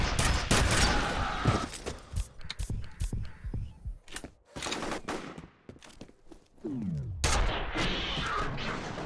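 Gunfire from the F.E.A.R. shooter game comes in loud, sharp, irregular bursts with heavy booming blasts, separated by short quieter gaps before another volley near the end.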